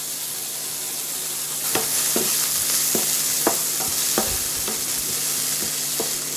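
Onions fry in oil, giving a continuous close sizzle, with regular spoon taps and stirring scrapes against the pan and no talking.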